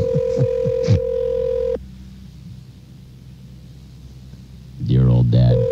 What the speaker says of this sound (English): He's going to answer the phone.